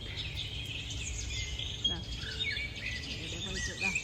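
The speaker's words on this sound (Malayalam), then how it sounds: "പഴുത്തത് കിളികൾ വന്നിട്ട് കഴിച്ചുകൊണ്ടിരിക്കുന്നുണ്ട്" Several birds chirp and call from a large tree laden with ripe, blackened fruit, mixed in with a steady background insect hiss. The calls are short, scattered and fairly distant.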